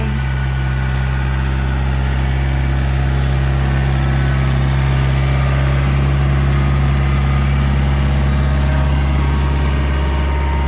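A heavy diesel tractor engine idles steadily and close, a deep continuous rumble with a constant vibrating drone and no speech.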